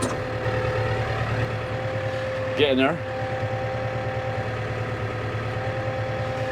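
Engine idling as it warms up, a steady low rumble running throughout with a brief spoken phrase over it partway through.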